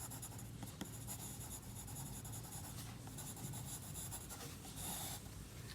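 Pen scratching across paper while labeling a drawing of a dentigerous cyst, a close, quiet, continuous writing rub with short strokes and pauses.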